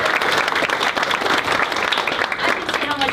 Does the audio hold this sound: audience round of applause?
yes